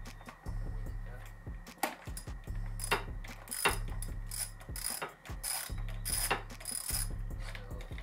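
A ratchet wrench fitted with a 3-inch extension and a long 10 mm socket clicks in rapid repeated bursts while working on a Honda Accord PCV valve, close and crisp, in several separate runs with pauses.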